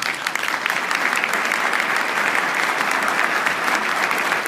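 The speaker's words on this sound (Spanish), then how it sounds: "Un gran aplauso para Jorge Castañeda" An audience applauds after a speech by Jorge Castañeda at a public lecture, a dense steady wash of clapping from many hands, loud and continuous throughout with no talking.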